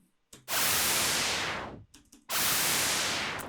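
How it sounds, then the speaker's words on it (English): Two bursts of broad synthetic pink noise layered with a saw wave, each opening bright and loud then darkening as a filter sweeps all the way down, separated by a short gap. "it's a pink noise, and it's a saw wave with a filter automation, which goes all the way down."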